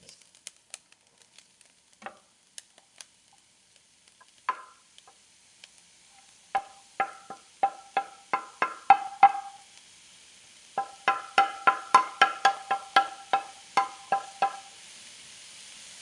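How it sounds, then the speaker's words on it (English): Mushrooms sautéing in a pan for meat-patty prep give sparse ticks at first, then rising bursts of sharp crackling and sizzling pops in quick rhythmic runs, close and fairly loud, with no talk. "Let it just saute for almost like 4 to 5 minutes."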